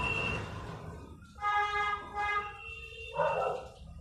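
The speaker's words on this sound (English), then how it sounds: "Lots of booping and hooting outside." Vehicle horns toot several times outdoors at a moderate distance, with a steady drone of street noise between the blasts and no speech.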